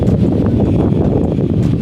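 Wind blows by a canal, buffeting the microphone with a loud, continuous low rumble that gusts unevenly throughout and masks any other sound.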